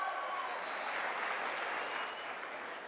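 Applause for first-year freshers at an engineering college event, a steady wash of clapping from a crowd that holds evenly and tapers slightly at the end.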